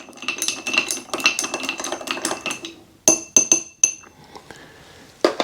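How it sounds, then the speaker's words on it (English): An orange slice dropped into an old fashioned cocktail, then a spoon stirring against the glass: quick bright clinks and taps, a few sharper knocks, close and clear with no voices. "Then I drop the orange in the drink and give it another quick stir."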